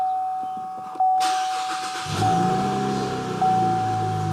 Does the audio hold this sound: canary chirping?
no